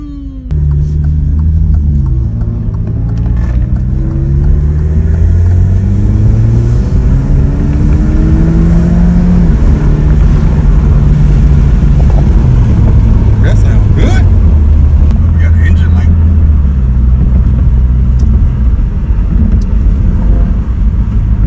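An Alfa Romeo Stelvio Quadrifoglio accelerates hard in race mode, its engine note rising through several gears with rumbling shifts, loud and continuous from inside the cabin, with occasional voices over it.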